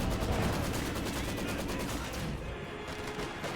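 Maxim machine gun fire in Company of Heroes 2, rapid rattling bursts mixed with other battle gunfire, loud and continuous before easing off.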